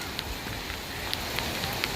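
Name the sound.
rain falling on a beach road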